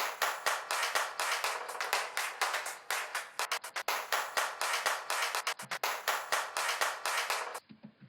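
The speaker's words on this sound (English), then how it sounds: "there was this really cool clap loop" A looped clap sample named Clapgasm plays as a dense, rapid, rhythmic stream of sharp layered claps with brief high pings, loud and close, ending in a short cut-off, with no talking.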